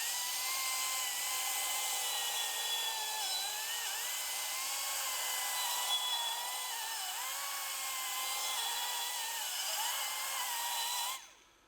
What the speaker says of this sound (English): Now we're going to use the reamer just to clean all the burrs off the edge